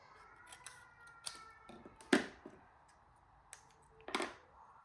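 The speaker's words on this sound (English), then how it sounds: "Let's cut this up." Scissors cut paper for handmade paper bows, close and crisp, with a few separate sharp snips among quieter rustling and small clicks.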